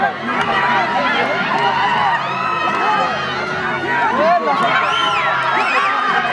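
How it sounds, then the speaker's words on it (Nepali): Spectators at a Dashain fair tug-of-war contest cheer and shout continuously, a dense crowd roar with children's voices and whoops rising over it throughout. "दर्शक मानवतीबाट आफ्नो समूहलाई हुटिङ पनि आइरहेको छ"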